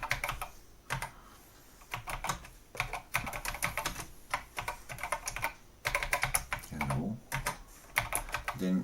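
Keys clatter on a Memotech MTX512 computer keyboard while a BASIC program is typed, in quick irregular bursts of close, crisp clicks with brief pauses between words.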